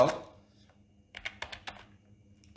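JavaScript code being typed on a computer keyboard: a quick cluster of crisp keystrokes in the second half, close and moderately quiet, after a brief burst of speech at the start.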